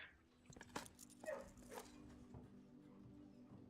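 Dogs in a kennel in the video game Blue Prince give a few faint, brief yips and rustling movements, quiet and close, with no talking over them.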